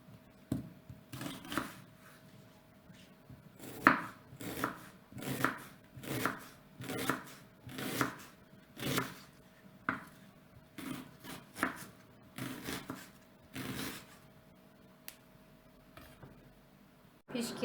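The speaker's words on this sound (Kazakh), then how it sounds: "Пияздың сыртын аршып, жуып, жіңішкелеп тураймыз." A knife slices an onion thinly on a cutting board in a steady series of crisp, close chopping taps, with short pauses between runs.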